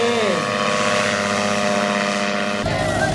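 A paramotor's propeller engine drones loudly and steadily at takeoff during a daytime paramotor meet in Nakhon Si Thammarat, with the pitch shifting near the start and again near the end.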